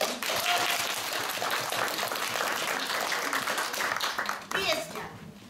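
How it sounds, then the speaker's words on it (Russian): Concert audience at a music festival gala applauds in a dense, steady clatter of clapping that fades near the end, with children's voices and other chatter mixed in. "Аплодисменты."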